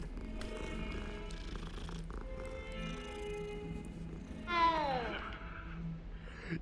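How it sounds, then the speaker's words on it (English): In the Hogwarts Legacy video game, a cat purrs softly and steadily, then gives one clear rising-and-falling meow, all at low volume over faint game ambience. "Your meow is weird"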